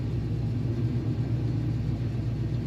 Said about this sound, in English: Great sound of this truck.